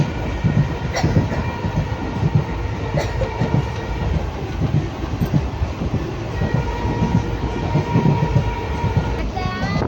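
A train running, heard from inside a carriage: a loud continuous rumble with rhythmic clickety-clack of the wheels on the rails and faint passenger voices beneath it.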